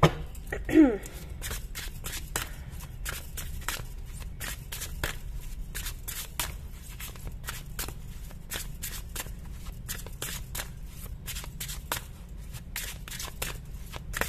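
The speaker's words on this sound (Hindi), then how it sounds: "तो अगर आपको कार्ड शफलिंग पसंद नहीं है गाइज, आप इसको स्किप कर सकते हो" Tarot cards are shuffled by hand in rapid, crisp riffling bursts, a long run of close, quick flicking clicks with a brief louder handling noise near the start and no talk over it.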